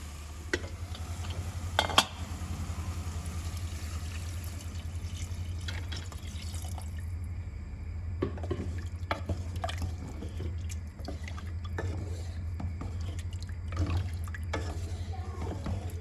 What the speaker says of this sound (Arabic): من يحمس اجي اضيف له المي.